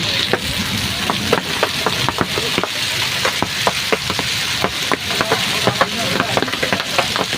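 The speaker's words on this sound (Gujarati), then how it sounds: "ફૂલ તોફાન સાથે વરસાદ પડી રહ્યો છે" Heavy rain pours in a storm in Gujarat in a dense, steady hiss, with sharp drops and splatters rapping constantly against a hard surface close by.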